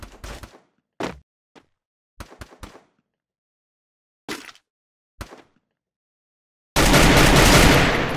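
Gunfire in the mobile battle royale game Free Fire: several separate sharp shot bursts spread across the clip with silent gaps, followed by a loud sustained blast of dense noise at the end.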